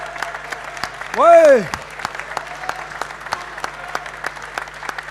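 Audience applause at an installer trophy awards ceremony, a steady patter of many hands running the whole time at moderate level, with a brief voice and a rising-falling tone breaking in near the start.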